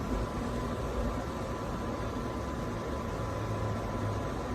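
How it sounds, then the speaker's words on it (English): An Adamson B10 bed cooling system fan runs at its highest speed, giving a steady, even hiss of airflow like soft white noise that holds unchanged throughout, with faint background hum and no voices. "it's a very quiet fan. So just a little white noise here"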